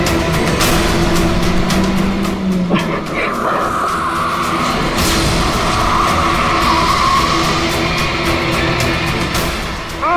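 Car tyres skid in a loud, drawn-out screech after the brakes fail, mixed with dense engine and road roar and a short squeal at the very end, in a crime drama scene.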